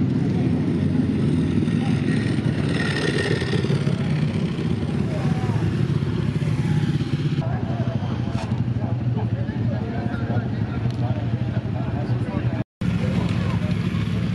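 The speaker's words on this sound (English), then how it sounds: "there's still bikes rolling in" Motorcycles roll in at an outdoor gathering in the New Forest, their engines a steady rumble with babble from a crowd, continuous and moderately loud with a brief dropout near the end.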